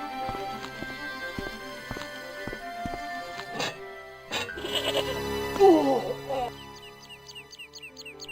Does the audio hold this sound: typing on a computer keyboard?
no